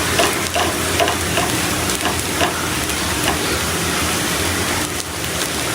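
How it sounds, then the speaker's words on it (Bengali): Food fries in hot oil in a home kitchen, a loud, dense crackling sizzle that sounds almost like rain, with scattered stirring taps running evenly through the whole stretch. "এখন হচ্ছে এগুলো তেলে নিব"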